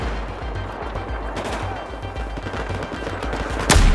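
Gunfire in the video game Battlefield 4, a dense rapid rattle of automatic fire continuing steadily, loud and close, ending with a sharp heavier blast.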